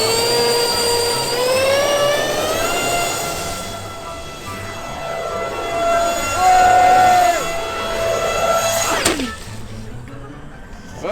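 A small RC model airliner flies over with a steady, high-pitched electric motor whine that rises and falls as it passes and comes in to land, ending in a sharp clatter of touchdown followed by the motor winding down.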